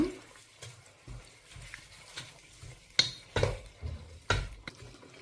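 Coriander and mint leaves being stirred into prawn biryani in a pan, with soft scraping and several sharper scoops and knocks of the spoon against the pot over a faint sizzle. The sounds are close and come in uneven strokes.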